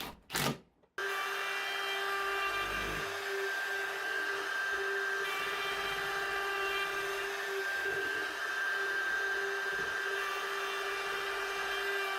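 A router cuts a wooden workpiece on a sled. The workpiece is NZ Totara or American white oak. A brief loud burst comes first, then a steady, close, high motor whine with cutting noise runs continuously, with no voices.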